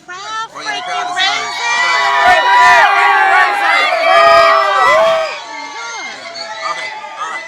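A lively crowd at a party fills the scene with loud, continuous cheering, shouting and chatter, with voices whooping and calling over one another throughout.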